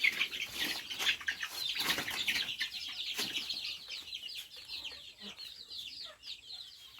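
Chickens clucking and flapping about on a small poultry farm raising Sonali fowl, a dense, busy chorus of many birds with soft wing rustles, moderately close and steady throughout.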